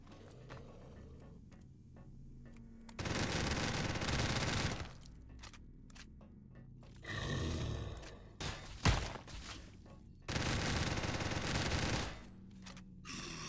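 Bursts of automatic gunfire from Call of Duty: Black Ops 6 gameplay, several loud sustained volleys separated by short pauses and scattered single cracks.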